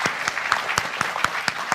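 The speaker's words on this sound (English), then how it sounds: "Let's give a big round of applause to our very" Crowd applause at the closing of an insurance summit, close and fairly loud, with a few distinct rhythmic claps standing out over the general clapping.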